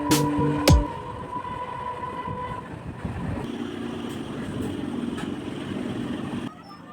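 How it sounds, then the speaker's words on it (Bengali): Local train from Canning approaching Sealdah, with a continuous rumbling roar of wheels on rails inside the carriage, a sharp clank near the start and a steady rattling drone until it drops off at the end. "এই ট্রেনটা ছিল আমাদের ক্যানিং থেকে"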